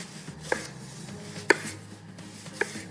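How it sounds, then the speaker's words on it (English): Three sharp knife chops through vegetables on a cutting board as they are cut into wedges, evenly spaced about a second apart, crisp and close against a quiet room. "my favourite way to cut them is to just take out the stem end and cut them in wedges like this"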